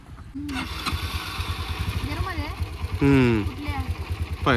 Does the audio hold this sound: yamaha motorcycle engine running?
yes